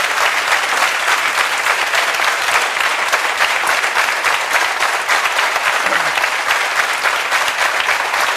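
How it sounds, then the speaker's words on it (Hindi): Sustained audience applause fills the hall for several seconds, a dense, steady wash of clapping from many hands with no voices rising above it. "एक बार दोबारा ताली बजाओ इसके लिए।"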